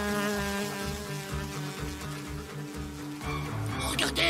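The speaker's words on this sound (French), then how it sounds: "Regardez, un moustique!" A cartoon mosquito's thin, steady whine hums throughout, layered under dense music and background voices, swelling a little louder near the end.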